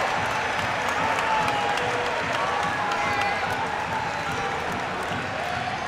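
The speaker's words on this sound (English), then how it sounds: "Crowd nearing its loudest that they've been tonight." Loud basketball arena crowd at a Florida Gulf Coast versus Bowling Green NCAA men's game, cheering and applauding steadily throughout with dense clapping and roaring voices, a faint whistle-like tone drifting over the din.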